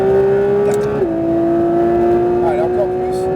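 A Porsche 992 GT3 RS accelerating at full throttle on the Le Mans track, a loud, sustained engine note heard from inside that steps down briefly at a gear change and then climbs again.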